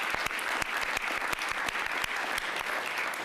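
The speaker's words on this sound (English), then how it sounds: "Let's give Dr. Blasio a great round of applause for that." Audience applause at a press briefing on reproductive rights held by de Blasio, a steady wash of clapping from a moderately distant crowd with a few sharper individual claps standing out, no voices.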